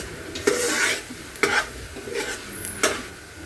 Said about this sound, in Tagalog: Ihalo na natin dyan para maisama na siya sa paggisa o pagsangkot siya.